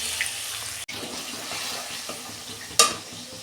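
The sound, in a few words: spice paste frying in oil with bay leaf and cumin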